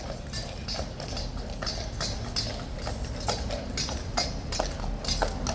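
A Horse Guards cavalry horse in London walks toward its sentry box, hooves clip-clopping in a steady, close, even rhythm on hard ground over light street ambience.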